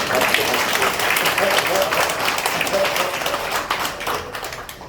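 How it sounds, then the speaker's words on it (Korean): A church congregation breaks into sustained, dense clapping during a communion service that holds steady for several seconds before easing off slightly at the end. "박수는 이분에게 쳐야 돼요."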